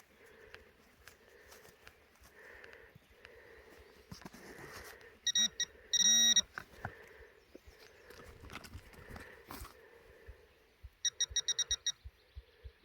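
Short electronic beeps ring out twice from a metal detector sweeping over a buried target in a clump at a World War 1 munitions plant site, mixed with rustling and footsteps.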